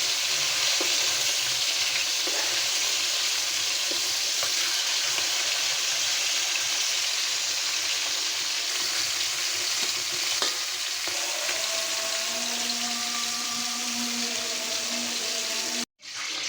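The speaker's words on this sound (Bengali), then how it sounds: "মাছগুলো আমার ভাজা হয়ে গেছে" Pieces of nola fish fry in hot oil for a fish curry, giving a steady, close sizzle that crackles on without pause and cuts out briefly near the end. No one speaks.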